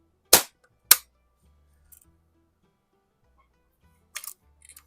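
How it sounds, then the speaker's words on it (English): A Crosman 73 Saddlepal CO2 air pistol fires BBs at a target, two sharp, loud cracks in quick succession, then a third shot and a few small ticks after a pause. "I want to shoot these BBs out at a splatter burst that I got set up."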